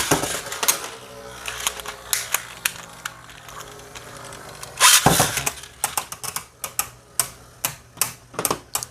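Beyblade spinning tops launched and battling in a stadium: a sharp rip at launch, then rapid rattling clicks and clashes as the tops collide, close and crisp.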